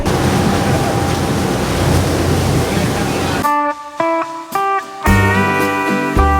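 Strong wind buffets the microphone aboard a sailing boat off the Na Pali Coast of Kauai, with waves rushing beneath, loud and steady, then giving way to brief music-like tones near the end.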